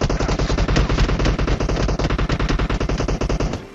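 Sustained automatic gunfire in a shooter video game, an attack coming from nearby houses: loud, rapid, unbroken bursts filling nearly four seconds before easing off at the end.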